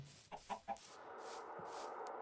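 Chickens in Minecraft give a few short, close clucks in a quick cluster, followed by a softer, steadier background of game noise.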